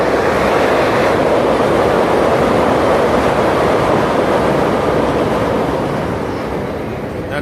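A loud, steady roar of a Chicago L elevated train rushing past nearby, holding strong before slowly fading at the end.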